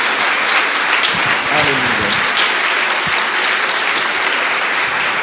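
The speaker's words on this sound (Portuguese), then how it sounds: "Dê uma salva de palmas ao Senhor." A Portuguese-speaking church congregation applauds the Lord with loud, continuous clapping from start to finish, while voices call out over it.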